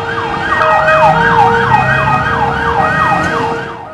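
A loud wailing siren sweeps up and down repeatedly, close by, over the hum of an emergency vehicle racing through city streets.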